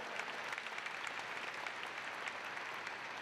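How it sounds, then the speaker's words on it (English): Audience at a university fall commencement ceremony applauds, a dense, even wash of many hands clapping, heard from a distance and fairly faint. "A round of applause for Hoosier proud"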